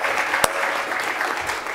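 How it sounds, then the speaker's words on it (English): An audience at a TiECON South 2014 conference applauds, a dense steady clapping with one sharp loud clap standing out early. "I'd like to have a huge round of applause for her and everything that she's done for us"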